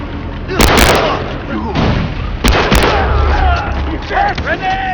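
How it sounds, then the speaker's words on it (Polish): Grenade blasts and gunfire in the first-person shooter Far Cry 3: loud booming bursts near the start and middle over a continuous rumbling game soundscape, with sharp cracks between them. "Granat."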